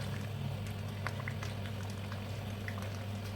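Egusi melon pepper soup boils on a gas stove, a close continuous bubbling and popping over a low steady burner hum, with no one speaking.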